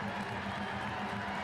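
A stadium crowd at a Portland Hearts of Pine versus New York Cosmos soccer match applauds players being substituted off, making a dense, steady wash of clapping and crowd noise throughout.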